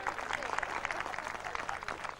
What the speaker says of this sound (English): A nice big round of applause for Vera.